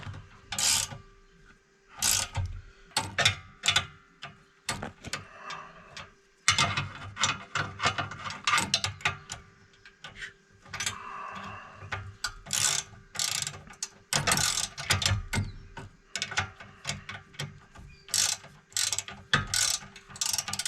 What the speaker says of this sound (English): Go around and finish tightening the last of the bolts up